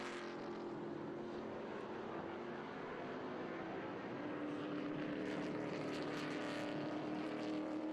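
A vintage race car, a Copenhagen AJ Foyt car, roars past at Watkins Glen during an SVRA Group 10 feature race, a steady engine drone building slightly louder as it approaches the heel of the boot.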